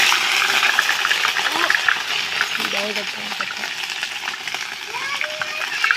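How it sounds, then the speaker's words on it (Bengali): Ginger paste sizzles and crackles steadily in a pan while potato filling for vegetarian singara is cooked, with clinks of a spoon and voices talking over the frying. "এই তো দেখো আদা বাটা দিয়ে দিলাম"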